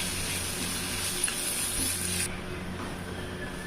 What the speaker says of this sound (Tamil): இந்த வெங்காய கலவை உப்பு கொஞ்சம் போட்டு நல்லா கொஞ்சம் வதக்கிக்கலாங்க